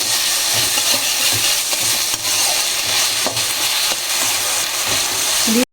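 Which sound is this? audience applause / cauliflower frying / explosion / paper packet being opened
cauliflower frying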